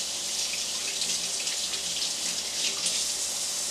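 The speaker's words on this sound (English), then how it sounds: "I know, you shouldn't be watching me wash my hands." Tap water runs steadily into a sink as hands are washed beneath it, a continuous close hiss of splashing with no pauses, in a kitchen while barbecue wings are prepared.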